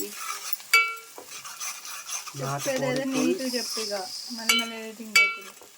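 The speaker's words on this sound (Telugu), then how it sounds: "ఆయిల్ అయితే తెచ్చింది, ఉల్లిగడ్డలు అయితే వేసేసారు. మొత్తాన్ని కలుపుకోవాలి." Onions frying in oil in a kadai are stirred, giving scraping strokes and sharp metallic clinks over a light sizzle, close by, with a brief murmur of voices midway.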